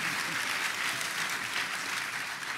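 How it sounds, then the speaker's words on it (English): A Comic-Con crowd applauding during a NASA panel, a dense, sustained wash of clapping from a large audience at steady loudness, with a voice faintly under it. "you can applaud that."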